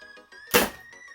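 A single Talonclaw air gun shot fired through a chronograph: one sharp, close thunk-like report that cuts through steady background hum and dies away quickly.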